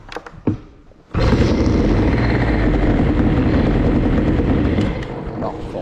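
A CPI 70 moped engine with Boost carburettor and stock ignition catches and revs hard as the throttle opens, a loud sustained buzzing roar after a few sputtering starts, easing slightly near the end.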